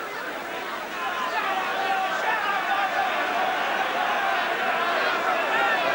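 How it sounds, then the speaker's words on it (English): The crowd at a 1985 New Zealand versus Australia rugby test murmurs and jeers in a broad, steady roar behind a commentator's voice. "The crowd not very happy with the referee's decision"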